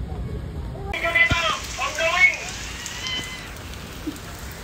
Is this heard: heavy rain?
yes